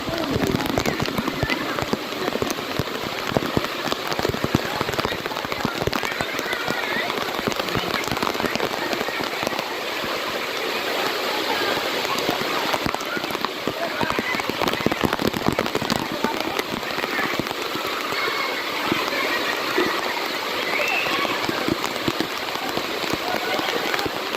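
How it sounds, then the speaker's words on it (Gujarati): Heavy rain pours down steadily and loudly, with a dense patter of drops on surfaces throughout and faint voices beneath the downpour. "જોરદારનો વરસાદ વરસે છે"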